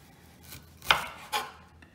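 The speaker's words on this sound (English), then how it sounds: "So, to julienne the ginger, and do start cutting it into thin strips." Knife slicing fresh ginger into thin julienne strips on a board for a marinade, a few distinct crisp chops spaced about half a second apart, close and clear with no talking.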